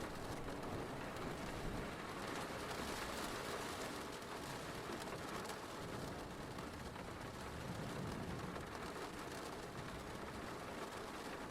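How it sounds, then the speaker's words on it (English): Steady rain falls with an even, unbroken hiss, soft and continuous, with no voices. "I'm going to let the rain play on for a little while to help you keep relaxed and drift off"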